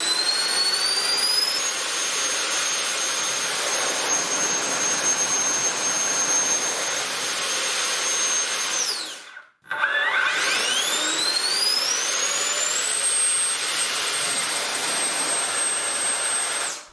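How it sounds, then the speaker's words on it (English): A 3D-printed RC Harrier jet fitted with sweepable nozzles runs a thrust test. A loud, steady, high-pitched turbine whine drops away briefly, then spools back up with a rising tone. "So everything is ready for the first thrust testing."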